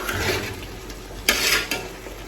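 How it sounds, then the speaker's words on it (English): Vegetable soup with uziza leaf being stirred in a cooking pot, with a soft continuous bubbling hiss and a couple of sharper spoon scrapes against the pot. "So I'm gonna stir together, stir very well."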